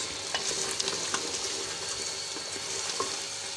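Green chillies fry in oil in a pan while being stirred, giving a steady close sizzle broken by scattered crackles and scraping taps, with no voices.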